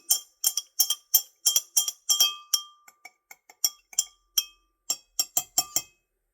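A bar spoon stirs an Old Forester maple bourbon bacon Old Fashioned cocktail in a glass, producing a rapid series of bright, close glassy clinks in uneven rhythm, with brief pauses between bursts.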